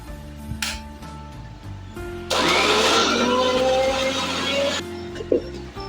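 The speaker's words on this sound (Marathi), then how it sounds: "हे आता आपण मिक्सरला बारीक करून घेणार" Against quiet background hum, a mixer grinder grinding jackfruit pieces roars loudly for about two and a half seconds, then shuts off.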